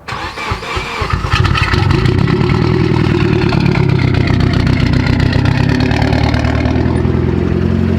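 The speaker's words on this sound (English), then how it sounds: "Cold start for the boys coming right up." A flood-damaged Mitsubishi Evo engine cranks briefly on a cold start, catches and settles into a loud, steady rough idle, close by.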